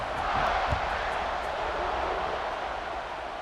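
A football stadium crowd buzzes after a score, a dense continuous roar of many voices heard from within the stands, with no clear talk on top.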